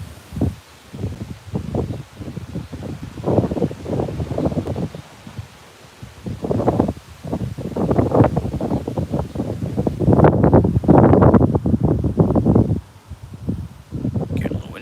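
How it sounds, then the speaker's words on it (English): Gusty wind buffets the microphone outdoors in the Mid-Atlantic, near the Pennsylvania–Maryland border, in loud irregular rushes that swell and fade over the whole stretch, with rustling throughout. "Getting a little windy."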